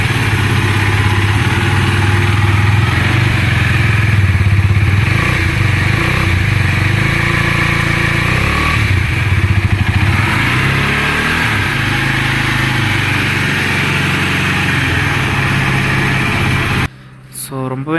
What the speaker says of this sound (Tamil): நம்ம ஹஸ்குவானோட இன்ஜின் சவுண்டையும் எக்ஸாஸ்ட் சவுண்டையும்